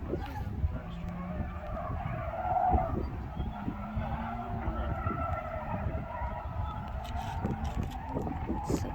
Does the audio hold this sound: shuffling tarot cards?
no